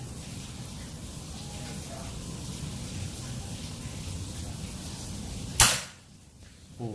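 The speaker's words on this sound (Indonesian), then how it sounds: "Kita coba tembakan pertama untuk melihat jatuhnya minis." A single sharp crack of a PCP mini air pistol (L-38, 2500 psi) shot at about 20 meters cuts through steady background noise, followed by a quick drop into quiet.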